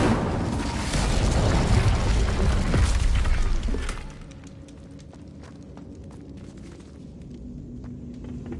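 A loud, dense roaring burst from an Incendio fire spell cast in Hogwarts Legacy, rumbling for about four seconds, then dropping abruptly to a quieter crackling game ambience.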